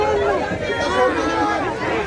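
A dense crowd of people chatters loudly and continuously while boarding a large boat to Bet Dwarka in Gujarat, their overlapping voices forming a close, steady babble.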